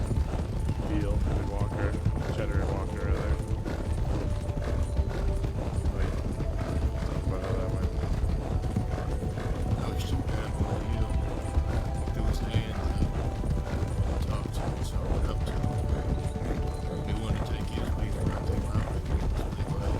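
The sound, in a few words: horse galloping hooves in roleplay video game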